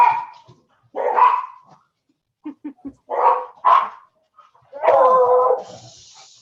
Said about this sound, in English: the dogs go nuts